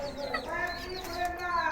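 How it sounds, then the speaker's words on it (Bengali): Chickens clucking and calling close by, a few overlapping bird voices in quick succession with a soft background murmur. "এই যে আমাদের মুরগিগুলা।"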